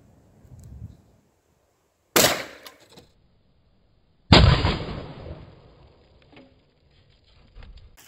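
A plastic bottle filled with hydrogen and oxygen gas ignites with a sharp bang and shoots off like a rocket, with a second louder burst and a trailing hiss that fades, heard outdoors with no talking.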